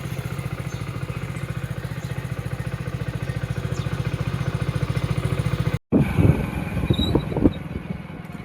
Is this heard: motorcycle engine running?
yes